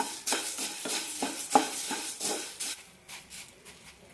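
Coriander seeds dry-roasting in a pan for homemade garam masala, stirred in repeated rhythmic scraping strokes with a light rustling hiss, fading softer toward the end.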